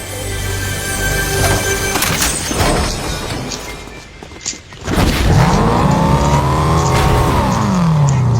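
Cars driving in a video game, loud and close: engines rev up and down in sweeping pitch changes, tires squeal, and a brief lull comes before another car surges back in.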